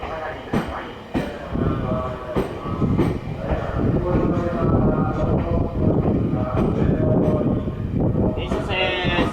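A Yokohama Minatomirai Railway Y500 series train arrives at Nagatsuta station, with a loud, continuous rumble of wheels and motors filling the platform and occasional sharp squeals and clanks throughout.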